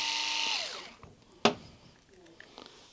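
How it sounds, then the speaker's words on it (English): A cordless or corded Wahl Detailer clipper has its blade screws backed out with a power driver: a short whining drill burst at the start winding down, then a sharp click and a few faint scrapes. "So we're just going to back those screws out"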